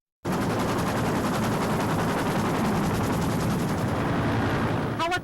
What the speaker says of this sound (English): Helicopters provide air cover and draw some gunfire after we land.